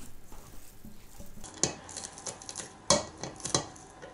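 Pieces of rabbit meat are stirred with spices in a bowl, making soft wet shuffling and patter, with a few sharp clinks of a utensil against the dish partway through.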